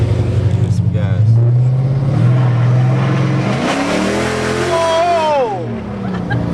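A 500hp Dodge SRT accelerates hard from inside, its engine note climbing in rising sweeps from a low rumble to a loud roar, with excited voices exclaiming over it.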